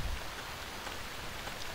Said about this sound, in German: es regnet, falls ihr es nicht bemerkt habt